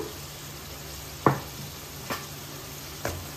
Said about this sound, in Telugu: ఇదంతా కొంచెం గట్టిగా అయ్యేలాగా ఇలా కలుపుతూ ఉండాలి